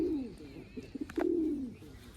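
Pigeons coo close by with no talk, a drawn-out low coo followed by a few short notes and then another long rolling coo.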